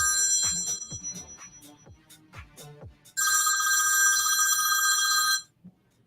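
Incoming call ringing on a live call-in talk show: a few soft taps and clicks, then a loud, steady electronic telephone ring lasting about two seconds before cutting off abruptly.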